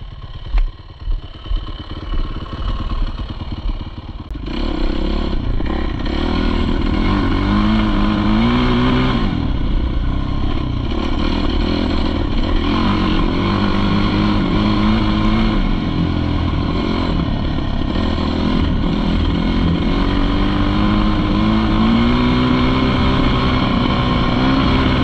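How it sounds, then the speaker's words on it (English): A 2007 Suzuki RMZ450 dirt bike engine roars loud and close during trail riding, first a few sharp revs, then a steady, continuous drone with shifting pitch as the throttle rises and falls. "Special edition with the new dirt bike, Stinger."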